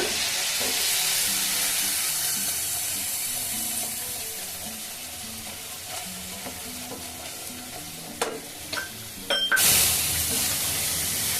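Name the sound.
masala frying in pan for prawn curry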